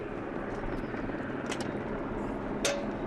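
A steady, faint rotor drone of a rescue helicopter hums throughout from a distance near the Matterhorn, broken by a couple of brief higher clicks and a short whine near the end.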